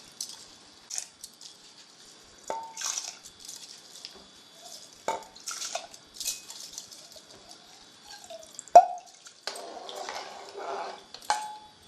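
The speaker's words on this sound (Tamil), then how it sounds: "இப்போ நான் களைஞ்சி வச்சுருக்கிற அரிசியை இதெல்லாம் போடுறேன்." Washed rice tipped into a small pressure cooker, scattered wet patters and drips with metallic clinks and a brief run of water near the end, close and fairly quiet.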